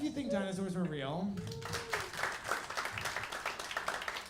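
A voice speaks over the first second or so, then a crowd breaks into scattered clapping that continues steadily through the rest.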